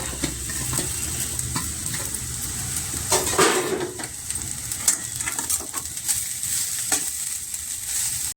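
A spoon stirring masala chitranna rice in an oily pan, with steady soft scraping and light metallic clinks over a gentle sizzle, close and moderately quiet.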